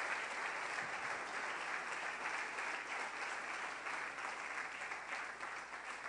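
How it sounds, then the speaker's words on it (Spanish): A church congregation applauds at a Saturday service, steady broadband clapping from many people held at an even level for the whole stretch, fairly distant and uniform. "denle un aplauso al Rey"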